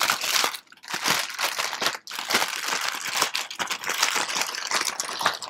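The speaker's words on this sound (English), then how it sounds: "What we're going to do first is fold back the rim of this bag." An Umai dry-aging plastic bag has its rim folded back, giving loud close crinkling and crackling of plastic in irregular bursts with a couple of brief pauses.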